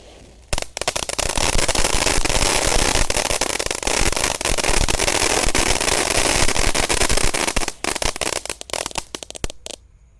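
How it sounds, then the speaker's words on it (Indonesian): Jumbo Basoka Roman Candle fireworks fired at night, a long, loud, continuous crackling and popping burst that lasts about seven seconds, with dense rapid bangs before trailing off. "Nanti kita juga akan menyalakan Basoka Roman Candle."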